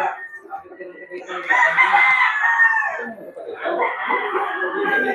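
Boston Roundhead gamefowl roosters crowing close by in a pen, drawn-out calls overlapping and rising loud across the moment with faint clucking beneath.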